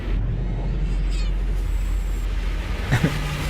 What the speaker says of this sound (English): trying to make the cat squeal in front of the microphone